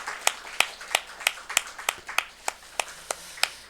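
A church congregation giving a short round of applause during a Sunday morning service, heard as about a dozen evenly spaced, crisp claps, close and fairly loud.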